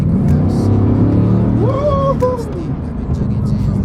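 Bugatti Chiron Sport hypercar engine of 1500 horsepower revs loudly and continuously, its pitch sweeping upward and falling back, with a voice talking over the steady roar.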